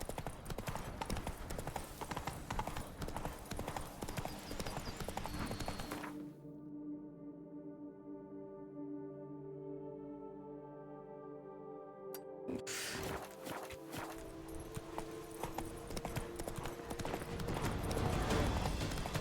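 Roach, a horse in The Witcher 3, clip-clops at a steady gallop, loud and close, with a short break where the hoofbeats give way to a tonal musical passage before resuming.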